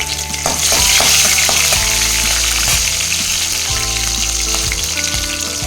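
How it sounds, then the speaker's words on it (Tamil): Green chillies dropped into hot oil with popping mustard seeds, a loud, close, continuous frying sizzle with rhythmic clunks of stirring against the pan. "கடுகு பொரிஞ்சிச்சு பச்சை மிளகா போட்டுக்கலாங்க"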